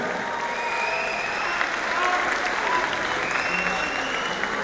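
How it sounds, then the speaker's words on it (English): A darts tournament crowd at the 2024 British Open finals applauds the champion with sustained, dense clapping and crowd noise throughout, steady and fairly even in loudness. "let's hear a massive round of applause for Jim McCune and your champion, Carl"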